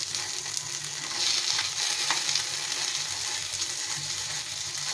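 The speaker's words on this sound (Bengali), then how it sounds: "তো দেখো সুন্দরভাবে এগুলো ভাজা হয়ে যাচ্ছে।" Vegetables shallow fry in a pan with very little oil, giving off a steady close sizzle broken by light scraping and stirring sounds.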